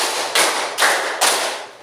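Three crisp hand claps land about 0.4 seconds apart in a counted clapping routine, close and sharp, each with a short decaying tail.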